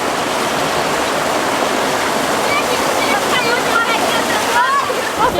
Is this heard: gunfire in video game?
no